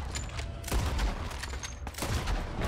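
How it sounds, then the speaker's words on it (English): Rapid gunfire from Red Dead Redemption 2, repeated shots slamming into a wall in a dense, continuous barrage with sharp cracks over a loud rumbling bed, no voices. "I keep shooting the wall here."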